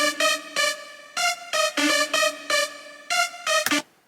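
Pitched-up synth line playing solo, a short run of bright, harmonic-rich staccato notes in an uneven rhythm, close and clean with no talk over it.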